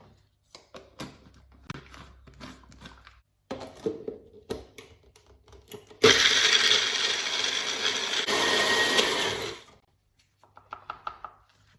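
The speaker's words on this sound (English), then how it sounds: "then we'll stick it into the blender, and then we'll whiz it up" After some clattering and knocking, a blender blending nuts roars loudly for a few seconds of steady whirring, then cuts off, leaving light tapping sounds.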